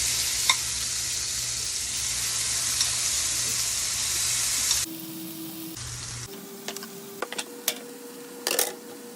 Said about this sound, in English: Go ahead and lay our shrimp in.